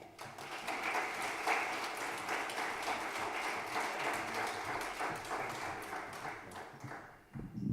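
Audience applause at an afternoon talk with guest Rich Morgan: a dense, steady wash of many hands clapping at moderate loudness, tapering slightly near the end.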